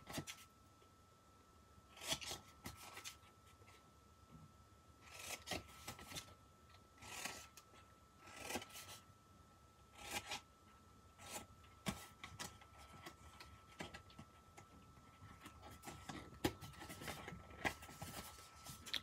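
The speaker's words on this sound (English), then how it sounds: "Now, we're going to cut the lid. So I'm going to cut on those score lines." Paper gift box lid being cut along its score lines, a quiet run of short snips and rustling strokes repeating steadily at close range with no talking.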